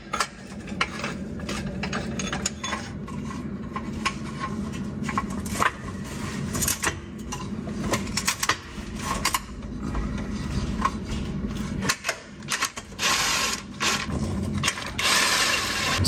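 Mechanical ratcheting and metal clicks from tightening transmission bolts during a 1.8 engine swap on a Mazda Miata, in irregular bursts close by in a garage with no talking.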